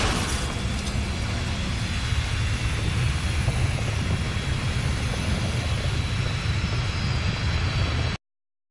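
A fighter jet roars overhead in a continuous loud, broadband rumble with heavy low-end power, steady for about eight seconds before cutting off abruptly.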